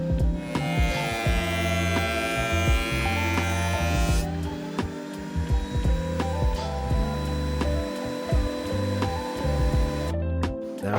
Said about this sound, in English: So once they're all set, I'll run the boards through the planer.